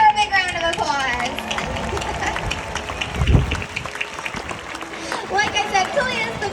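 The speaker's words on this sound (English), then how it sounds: "So let's give her a big round of applause." Audience applause and cheering fill the stands for the orca Kalia at a SeaWorld San Diego Orca Encounter show, a loud sustained crowd wash with some voices and whistles mixed in.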